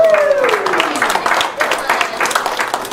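An audience at a comedy show in a Ventura VFW hall breaks into scattered, moderately loud applause and whoops that fade slightly over a few seconds, with voices mixed in.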